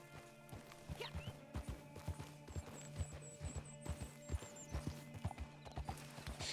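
Horse hooves clip-clopping at a steady trot in Red Dead Redemption 2 Online, a rhythmic series of close, distinct thuds with a faint high whistling tone partway through; no talking.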